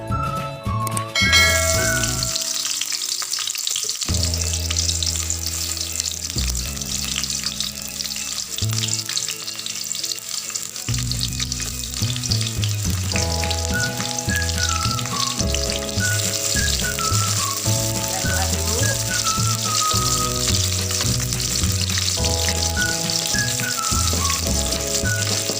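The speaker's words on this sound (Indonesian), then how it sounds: "Setelah minyak panas, masukkan bawang merah" Shallots frying in hot oil while cooking sardines, a steady bright sizzle and crackle running throughout, with soft background music playing over it.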